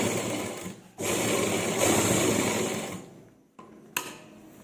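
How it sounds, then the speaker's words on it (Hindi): A sewing machine stitches a seam on a lined kameez, a steady close whir that runs in long bursts, pauses briefly, then resumes in shorter spurts with a sharp click near the end. "इस तरह से हम अपनी दूसरी साइड तक एंड तक सिलाई लगा लेंगे।"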